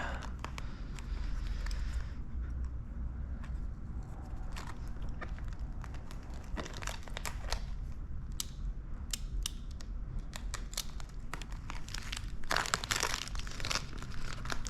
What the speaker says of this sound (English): So tear to the line so we can see where it ended.